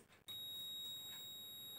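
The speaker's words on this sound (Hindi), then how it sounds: "सुन सकते हो दोस्तों, बजर का साउंड आ गया।" A multimeter's continuity buzzer sounds while a resistor is tested during an LG CRT TV repair: a single steady high-pitched beep that starts after a brief click and holds continuously, fairly faint and alone.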